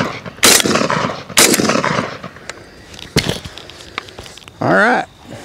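A Panzer EGX500 bullpup 12 gauge shotgun fires three loud, sharp blasts outdoors at irregular intervals, each with a short ringing tail, followed by a brief higher whirring sound.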